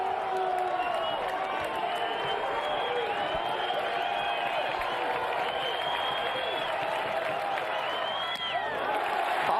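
A packed college baseball stadium crowd cheering and applauding during an NCAA tournament game between NC State and James Madison with the bases loaded, a sustained loud roar with whistles and whoops throughout.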